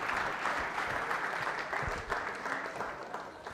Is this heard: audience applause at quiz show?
yes